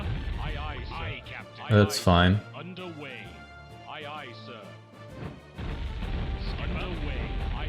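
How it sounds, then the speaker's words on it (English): Catapult fire and crashing impacts in WarCraft II Remastered, heavy booming hits amid a busy battle soundscape, with someone talking over much of it. "Oh snap, catapult time."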